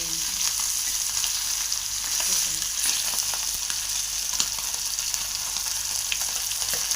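Fish frying in a pan throws off a steady, dense sizzle with scattered sharp spatters and pops. It stays close and continuous throughout, with no voices.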